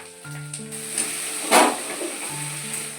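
Nigella seeds and a small chopped onion crackle and sizzle in hot oil, a close steady fry with one louder burst of hissing midway, while faint tonal hum sits beneath.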